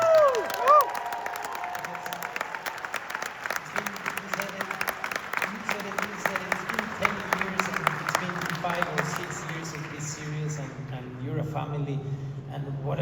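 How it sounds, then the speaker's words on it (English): An audience at an Andor Season 2 sneak peek at Lightroom in London applauds the cast with steady, dense clapping and a few whoops that fade toward the end, while voices talk over it. "give a good applause to the whole cast that's here"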